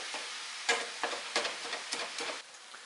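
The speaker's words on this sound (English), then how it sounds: "this is just going to get browned until the onions go transparent and the meat is brown" Onions and deer meat sizzle quietly as they brown in a hot cast iron pan, broken by several scraping stirs at uneven intervals, fairly soft and close.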